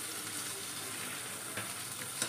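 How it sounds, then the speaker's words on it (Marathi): Spicy stuffed eggplant mixture (bharli vangi) being stirred in a pan, a quiet continuous sizzle with a couple of soft spoon scrapes toward the end. "आता हे पूर्ण मिक्स करून"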